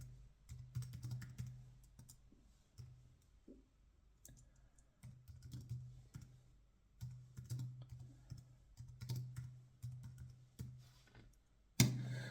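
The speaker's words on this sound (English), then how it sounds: "I'm trying to type like this." Steady typing on a computer keyboard, a run of quiet, close key clicks in uneven bursts with brief pauses, ending in a sharper knock.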